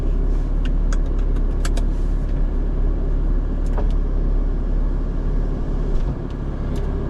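A Ferrari 360 engine runs with a heavy, steady low rumble from close by, the sound holding loud and even throughout with a few light metallic clicks and rattles over it and no talking.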